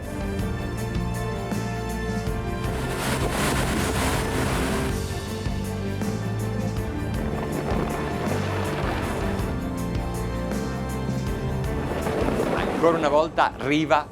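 The engines of a Riva 66 Ribelle yacht, fully loaded and running at full speed of about 2,300 RPM and over 36 knots, give a steady loud drone with rushing water and wind, while someone talks over it throughout.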